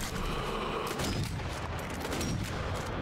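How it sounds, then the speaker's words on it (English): Dense rapid gunfire and booming shots from the Sniper Elite V2 Remastered video game, a loud continuous barrage of overlapping reports with no pauses. "bit of wild shooting going on there"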